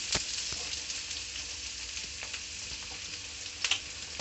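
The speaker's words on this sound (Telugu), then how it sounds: "అరకిలో ఉల్లిగడ్డలు తరిగి పెట్టుకొని ఇప్పుడు వేసేసుకుందాం" Half a kilo of chopped onions frying in a pan after mustard seeds, bright steady sizzle with occasional stirring clicks, close and even, no talk.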